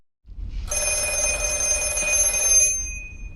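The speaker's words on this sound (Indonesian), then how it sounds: "telepon hitam kembali berdering dengan keras" Black telephone in a horror story ringing loudly, a bright sustained electric bell trill starting abruptly and holding for a couple of seconds before cutting off, with no talking.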